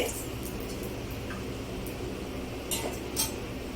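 Ground green cardamom from two crushed pods being stirred in a pot while making an egg curry, giving soft metallic scraping and occasional clinks of a utensil against the pan over steady kitchen background noise.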